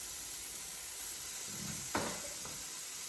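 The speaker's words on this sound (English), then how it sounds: "All right, so those are getting sizzling." Steady sizzle of diced onions frying in a pan, with a hissing crackle throughout and a brief louder burst of sizzling near the end as more food hits the pan.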